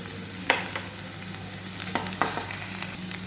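Tomatoes and ginger paste fry for pulao in a pan, crackling steadily with scattered sharp spatters and a few scraping stirs of a spoon, close by and without speech.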